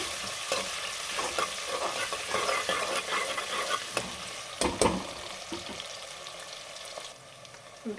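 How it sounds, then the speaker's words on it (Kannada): Onions with mint and coriander fry in a pan for drumstick pulao with a steady close sizzle and crackle, broken by scraping stirring strokes and a few sharper clacks. "ಈರುಳ್ಳಿ ಫ್ರೈ ಆಗಿದೆ"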